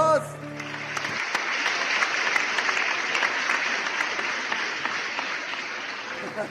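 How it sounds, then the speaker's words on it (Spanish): A church congregation bursts into applause during a sermon, a sustained wash of many hands clapping that fills the room after a speaking voice at the start. "Dale un aplauso a nuestro Dios."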